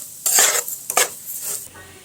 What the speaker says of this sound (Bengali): সুজিটা দিয়ে আবারও আমি কিছুক্ষণ নাড়াচাড়া করে সুজিটাকে একটু ভেজে নেব